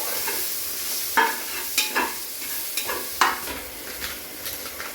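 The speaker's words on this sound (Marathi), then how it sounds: "त्याला आता परतून घेऊया" Mutton masala with red chilli, turmeric and Malvani spice being sautéed in a pan, a close sizzle broken by several sharp scraping stirs of the spoon, no talking.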